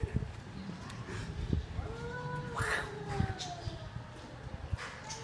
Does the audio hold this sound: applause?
no